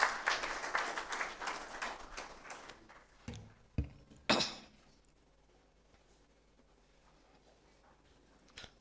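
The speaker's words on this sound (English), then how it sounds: "let's all clap as we come" An audience claps warmly to welcome guests at an international interdisciplinary conference public lecture; dense applause fills the first few seconds, then thins to a few scattered claps and fades into near silence.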